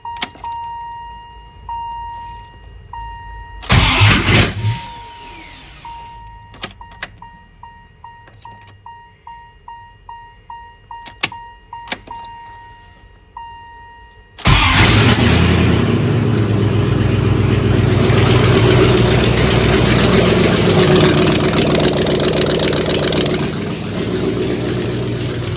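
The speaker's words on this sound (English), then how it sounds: "try to fire it up" A 5.2-litre Jeep Grand Cherokee ZJ V8, just given a manual transmission swap, cranks with repeated rhythmic starter bursts amid some clinking, then fires into a loud, steady rumbling idle close by.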